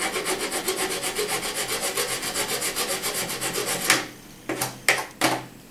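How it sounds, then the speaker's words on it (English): Hand filing on a part of an Xbox console, producing a steady, close, rhythmic rasping of even back-and-forth strokes that then breaks into a few separate scrapes. "the dust that I get when I file this is really deep dark green"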